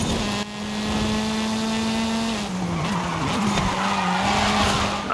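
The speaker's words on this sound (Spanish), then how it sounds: "Aquí derrape para enlazar las dos banderitas" A car drifts in Forza Horizon 5, its tires skidding in a loud, sustained screech over a steady engine drone, the pitch wavering as the slide shifts, close and continuous throughout.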